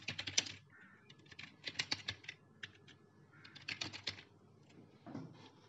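Fingers type quickly on a computer keyboard in short uneven bursts of light clicks, up close and fairly quiet, with brief pauses between runs.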